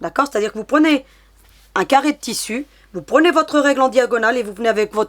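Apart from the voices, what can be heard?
No everyday noise stands out behind the speech.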